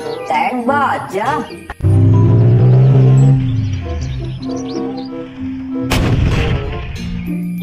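A toy steel tank gives an electronic cannon-fire sound effect, a loud boom with rumbling engine tone that fades, preceded by a brief spoken phrase and a second burst of noise near the end.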